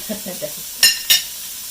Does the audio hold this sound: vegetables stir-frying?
yes